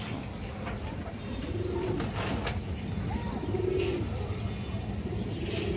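Giya Musoldom pigeons coo in repeated rising-and-falling phrases, close by, over a steady low rumble of loft noise, with a few faint chirps between calls.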